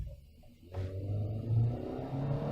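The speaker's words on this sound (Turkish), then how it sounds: "Motor sesi bir tık içeriye fazla geliyormuş gibi geldi bana. Fazla gazlayınca geliyor." A 2010 Mazda 3 with a 1.6 petrol engine, 105 hp, revs up under acceleration, a low engine rumble swelling after a quiet start and holding steady from inside the car.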